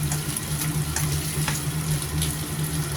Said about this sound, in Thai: ผัดให้สุกก่อนนะคะ